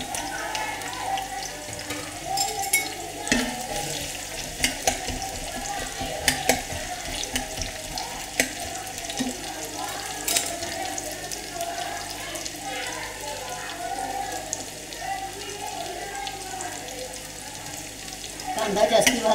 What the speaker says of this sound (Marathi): तेल कढलेलं आहे. आता आपण कांदा टाकूया.